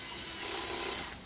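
Bosch Go Gen 3 cordless screwdriver driving a screw at its lowest torque setting, a brief steady whirring buzz that swells slightly before easing, close and alone.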